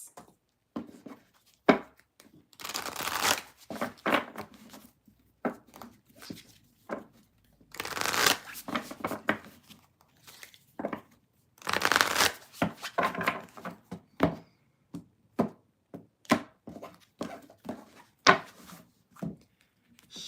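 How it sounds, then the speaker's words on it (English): Tarot cards are shuffled up close in repeated bursts of riffling and slapping, separated by short pauses, with soft taps and handling noises between them. "I'm going to shuffle"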